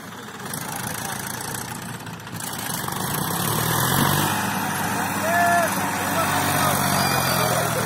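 A Massey 241 tractor running with an 11-tine tiller, a steady mid-pitched diesel drone that holds at close range and swells slightly partway through, under someone speaking.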